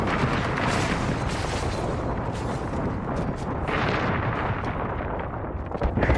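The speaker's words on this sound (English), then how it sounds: "Airstrike." Airstrike explosions in a shooter video game form a dense, sustained barrage of loud, heavy booms and rumbling blasts that overlap continuously without pause.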